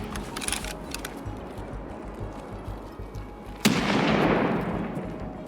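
A thrown grenade detonating in Escape from Tarkov, a single sharp blast after a few seconds of faint clicks and movement, followed by a loud rumbling decay.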